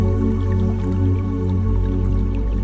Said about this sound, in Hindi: ये जो झरने की पानी के बहाव की आवाज है